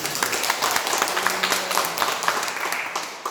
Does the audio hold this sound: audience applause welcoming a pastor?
yes